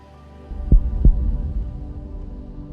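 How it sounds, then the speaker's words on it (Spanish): A slow heartbeat in a meditation: two deep, close thumps roughly a third of a second apart over a low, steady hum, then the throbbing fades into the droning background. "el pulso de los latidos se hace cada vez más lento."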